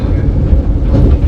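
Vande Bharat sleeper train running between Bandel and Nabadwip Dham, heard from inside a first AC coupe: a loud, steady low rumble with dense rolling noise throughout, no voices.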